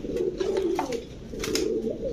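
A pigeon at a bird market gives soft, low repeated coos, close by against a steady murmur of background noise.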